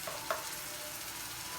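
Tomato paste goes into a frying masala for stuffed bitter gourd, bringing a steady close sizzle with a brief stir at the start and no talk.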